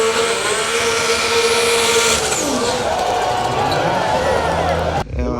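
A car engine drones steadily in a busy outdoor expo crowd with chatter throughout, loud and continuous, before cutting off abruptly near the end.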